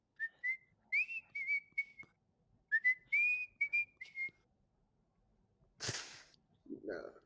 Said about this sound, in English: I could regular whistle really good